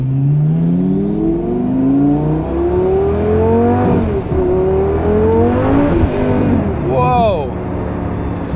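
A Lamborghini's engine revs hard as its wheels spin in second gear, with a rising and falling howl that climbs steadily and peaks loud throughout, close by.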